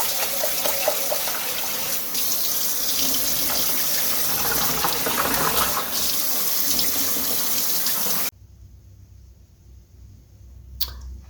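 Tap water runs steadily into a sink while rice is rinsed, a broad splashing stream for about eight seconds before it cuts off, leaving quieter handling and a brief clink near the end.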